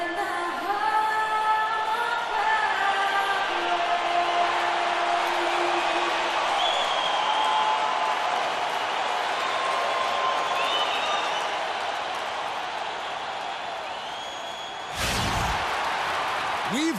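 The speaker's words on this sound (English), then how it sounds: "We've got an electric crowd here in Los Angeles at the Staples Center." A large arena crowd at the Staples Center in Los Angeles in the NBA 2K16 basketball game roars in a steady, loud wash with whistles and whoops, followed by a sharp burst near the end.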